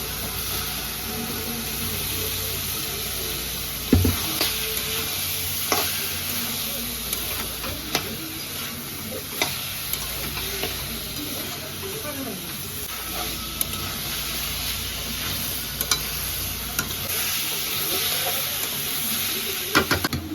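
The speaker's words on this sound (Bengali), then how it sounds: "এবার আমি ভালো করে কষিয়ে নেবো এবার আমি সিদ্ধ করা কাবলি ছোলাগুলো দিয়ে দেবো" Boiled kabuli chickpeas are sautéed in a hot pan with a continuous close sizzle and hiss, punctuated by scattered spatula scrapes and taps, and no one speaks.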